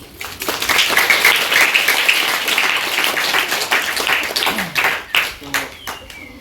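Audience applause at a felicitation during an annual exam event at an art-learning centre, a dense burst of many hands clapping that swells and then thins out near the end, loud and close.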